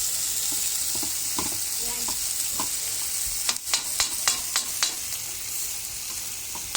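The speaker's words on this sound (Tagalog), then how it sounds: "Nagisa ako ng munggo na maraming bawang at sibuyas" Mung beans with plenty of garlic and onion sizzle steadily in a hot pan, with a spoon stirring and clinking against the metal in a quick run of scrapes partway through.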